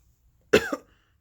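A single sharp dry-throat cough, close and fairly loud, with a quick rasping follow-through, alone in a quiet room.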